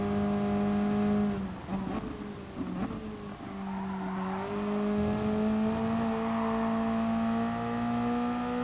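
Toyota race car in a video game at Mount Panorama, engine held at full throttle with a loud, steady high-pitched drone that dips briefly with tire scrub, then climbs smoothly in pitch as it pulls hard.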